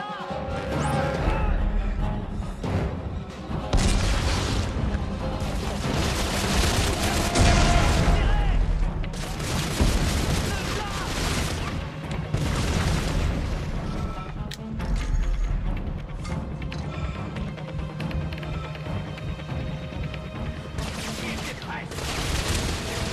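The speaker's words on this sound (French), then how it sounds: "Une grenade." Grenade blasts and heavy combat in the Dead Space 3 video game: dense, loud bursts of booming explosions and crashes rolling over one another for a long stretch, with a voice talking over the noise.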